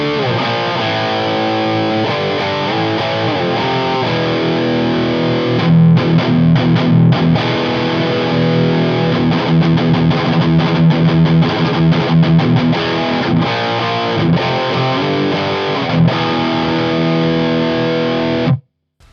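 High-gain electric guitar through a Blackstar HT Studio 20 valve amp with gain at noon, British metal tone: loud saturated riffing with chugging palm-muted passages and sustained chords, playing continuously before cutting off abruptly, no talking.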